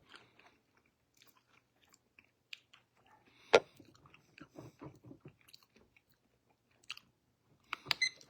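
Chewing during a spicy food eating challenge, with close, wet mastication and crunchy bites coming in bursts, plus a few sharper snaps, with no talk over it.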